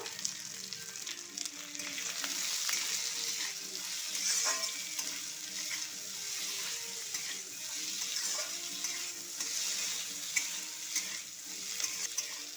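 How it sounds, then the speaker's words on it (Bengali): Diced potatoes and peas fry in a pan with a little salt, a continuous close sizzle with the scrape and clatter of stirring running steadily throughout. "আলু আর মটরশুঁটি একটু ভালো করে ভেজে নেব।"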